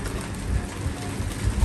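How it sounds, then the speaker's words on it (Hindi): Heavy rain pours at night as a dense, steady hiss filling the whole span, with a low rumble underneath and no distinct voices. "अभी अच्छी तेज़ बारिश जो है ना शुरू हो गई है"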